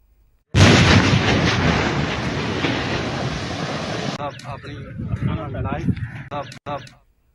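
A controlled blast breaching a dam near Head Qadirabad during heavy flooding in Punjab: a sudden loud blast erupts into a sustained rumbling roar that gradually fades, followed by muffled voices and crackling before falling quiet.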